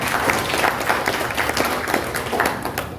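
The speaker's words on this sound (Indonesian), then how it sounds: "Tepuk tangan ini." An audience claps in sustained, dense applause at a civil servants' gathering of a regional religious affairs office, close and fairly loud throughout.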